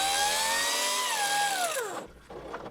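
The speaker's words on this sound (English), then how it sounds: "And cut the pipe right where the hole is." A tool cuts through a coolant pipe on a 2007 GMC Yukon 5.3L, a short high-pitched whine that slides downward in pitch before cutting off abruptly.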